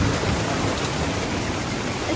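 Heavy October hail and rain pour steadily off a roof, a dense, continuous hiss of falling ice and water close by with no pauses and no voices.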